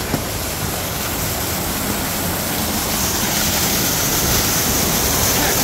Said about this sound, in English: The water's flowing that way.